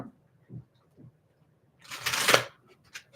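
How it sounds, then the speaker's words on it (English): Zodiac fortune-telling cards are handled and shuffled close by: a few soft taps and card flicks, then a brisk riffle burst of about half a second, followed by another short flick, in a quiet room. "let's get a few from the Zodiac fortune telling cards"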